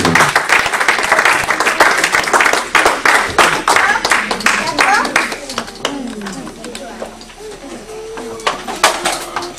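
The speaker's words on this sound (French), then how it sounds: "Acclamons pour le Seigneur, s'il vous plaît." A church congregation at a French-language service breaks into loud applause with vigorous rhythmic clapping, fading over several seconds, with voices and cheers mixed in under the clapping.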